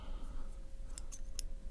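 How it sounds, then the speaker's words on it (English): A few quick scissor snips cutting hair in a barber shop, close by, crisp and light, spaced irregularly over a quiet low hum. "do some finishing touches with these scissors"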